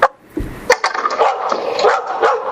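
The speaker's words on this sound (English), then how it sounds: "And the dog's barking." A dog barks several times nearby outdoors on a pretty day, sharp bursts early on followed by a steadier mix of yips and sounds that run on for a couple of seconds.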